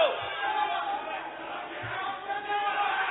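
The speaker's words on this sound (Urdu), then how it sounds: "آپس میں نعرے بازی نہ لگائیں." Members of an assembly session chant slogans together, a loud, dense crowd of voices shouting in a packed hall.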